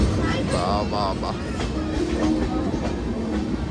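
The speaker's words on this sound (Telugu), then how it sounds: "ఇప్పుడు కదులుతుంది ట్రైన్." A train pulling away on the line to Araku Valley, with a steady rumbling roll and faint clatter running throughout, close by, as people talk over it.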